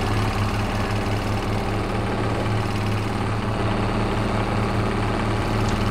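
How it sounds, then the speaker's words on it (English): An International Farmall H tricycle tractor in a farming video game runs with a steady, loud, low engine chug and a pulsing idle rhythm throughout, close and unbroken, with no talking. "There I go on my little tractor."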